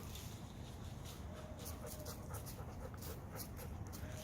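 Dog panting outdoors after running, a rapid continuous series of soft breaths heard from a short distance, faint under steady background noise with no talking.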